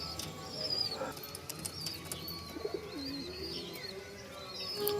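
Andhra pigeons in a home loft give scattered soft coos and chirps with occasional wing flaps, moderately close, over a steady low background hum with no voices.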